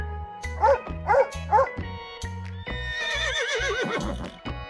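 A horse lets out a long, wavering whinny that trails off, preceded by a few quick dog barks, with rhythmic background music running throughout.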